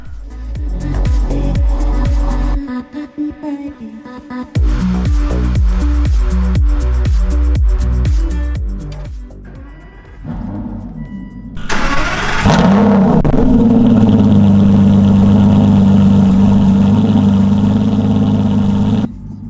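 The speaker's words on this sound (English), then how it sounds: "We're gonna go ahead and start the car for the first time after the new battery" An Aston Martin V12 Vantage, fitted with a new lithium battery, cranks with a rhythmic whirr, pauses, then fires with a loud revving burst that settles into a steady, close V12 idle.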